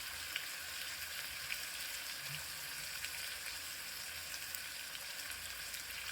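Chili added to hot oil for a drumstick (moringa) curry cooked in a village style, giving a faint, steady sizzle with small crackles throughout.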